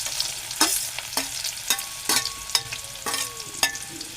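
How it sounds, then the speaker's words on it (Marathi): Two finely chopped onions sautéing in a generous amount of oil, sizzling steadily close up while a spatula scrapes and stirs in sharp, repeated strokes against the pan, with no voices. "कांदा चांगला परतून घेऊ"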